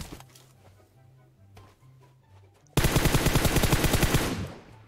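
Gunfire in PUBG Mobile: after quiet game ambience, a loud, rapid burst of automatic fire erupts close by and rattles on continuously for a couple of seconds.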